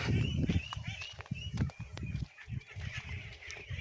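Pet ducks quacking and honking in repeated loud, uneven bursts close by, with some overlapping calls and farmyard background noise between them.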